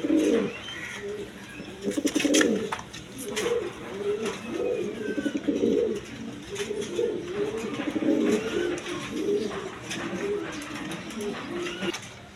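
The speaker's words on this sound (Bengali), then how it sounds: "এখানে এক পেয়ার ড্যানিশ কবুতর আছে" A pair of Danish pigeons coo repeatedly in soft, throaty, rolling phrases at close range, with occasional faint chirps in the background.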